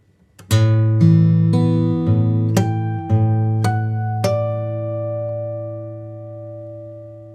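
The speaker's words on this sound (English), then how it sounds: "The only difference here is that I'm playing a bass note in between the 1st and 2nd harmonics." Guitar harmonics ring out in a sequence of about eight bright, chiming plucks, each left to decay, with bass notes picked in between; the last tones fade slowly and no one speaks.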